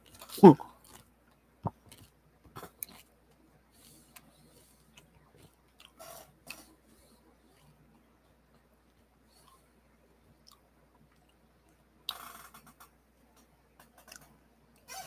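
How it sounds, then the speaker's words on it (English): Someone eating cheesy food, a few faint scattered chewing and biting sounds with long quiet gaps between them, close to the microphone. "I'm eating cheesy goodness, so that proves I'm over my food poisoning."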